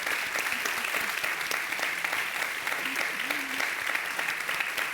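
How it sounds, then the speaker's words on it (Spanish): Steady, dense audience applause fills a hall at a volunteer associations' gathering, even and sustained throughout with a faint voice briefly rising beneath the clapping. "Por favor, un aplauso."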